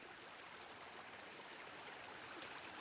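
A river flowing steadily, a continuous broadband rushing wash with no breaks, faint and even throughout with no voices.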